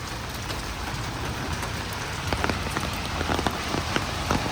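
Steady rain pours down, a dense hiss with scattered louder drops spattering on hard ground, constant throughout with no voices.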